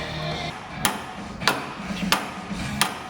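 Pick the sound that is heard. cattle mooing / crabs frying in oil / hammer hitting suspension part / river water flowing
hammer hitting suspension part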